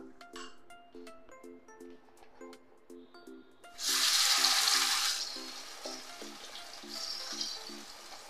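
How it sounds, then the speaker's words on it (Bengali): Soybean chunks with turmeric and salt fry in a pan, starting as a quiet sizzle beneath faint tonal kitchen sounds, then swelling into a loud hissing burst when the chunks hit the oil before easing to a softer sizzle. "আমি সয়াবিনটা ভেজে নেব, তার জন্য একটু হলুদ দিয়ে দিলাম, একটু লবণ দিয়ে দিলাম।"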